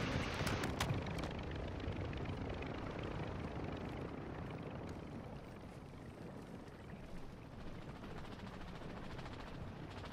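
A helicopter drones steadily in a video game as players move across a mountain area, a continuous broadband whir that stays fairly even and slightly fades over the span, with no talk.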